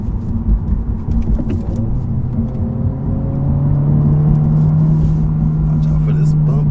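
A Honda Civic Si pulls away with a rough clutch release, its engine droning low and steady inside the cabin and then rising in a smooth, building pitch as it accelerates.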